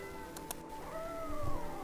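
Cat meowing in the AFK Journey video game, a single short, close meow with a rising and falling pitch, heard alone.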